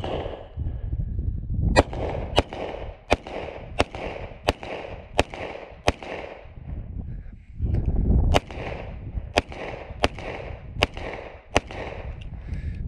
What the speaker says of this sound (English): I'm just gonna one hand shoot it here